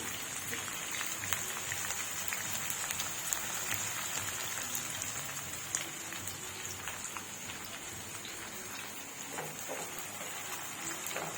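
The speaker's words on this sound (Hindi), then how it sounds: "ये प्याज डल गया, अभी कुछ फ्राई होने के लिए" Onions fry in a kadai with a steady, dense sizzle and crackle that holds at an even level throughout, close and continuous with no talking.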